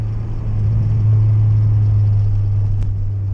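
An Acura RSX fitted with an HKS Hi-Power exhaust accelerating on a bumpy late-night road, giving a steady, loud low engine drone that carries without a break and with no talking over it.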